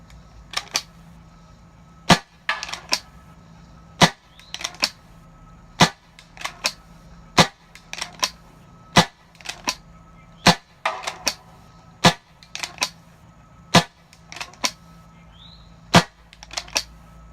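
An Asura CO2 air rifle fires repeatedly, sharp loud cracks arriving roughly every one to two seconds in a steady series, each followed by faint mechanical clicks of cycling, close and alone without talk.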